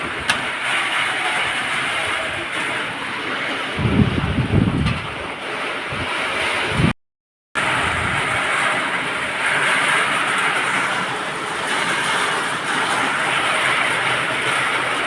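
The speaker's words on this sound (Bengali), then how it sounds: "হাওয়াও চলছে ঝড়ের দেখো কত হাওয়া উঠেছে আবার বৃষ্টিও চলছে" Heavy rain and gusting storm wind make a loud, steady roar of hiss and buffeting, with a burst of deeper rumble partway through and a brief total cutout before the downpour resumes.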